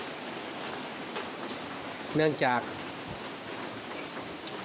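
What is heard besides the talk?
rain falling around a house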